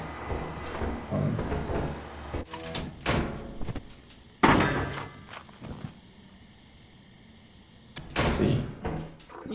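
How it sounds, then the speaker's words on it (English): Doors open in the modded co-op video game Lethal Company, giving several loud mechanical clanks and slides in separate bursts with quieter rumbling gaps between them. "I open the doors."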